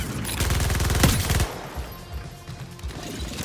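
A rapid burst of automatic gunfire in the Suicide Squad: Kill the Justice League video game, lasting about a second and a half before cutting off into quieter thumps and game ambience.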